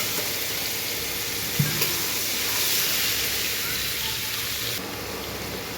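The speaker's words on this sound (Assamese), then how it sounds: "আৰু পনীৰখিনি এতিয়া ভাজিবলৈ দি দিছোঁ।" Paneer frying in oil with butter in a pan gives a steady, close crackling sizzle throughout, with a brief clatter of a spoon or utensil partway through.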